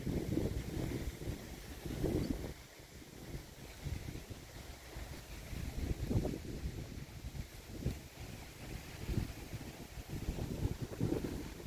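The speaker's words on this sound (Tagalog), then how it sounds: "Lakas ng hangin." Strong wind on Hobbit Hill in Albay, Bicol, Philippines buffets the microphone in continuous gusts, a loud roaring rush that swells and eases without pause.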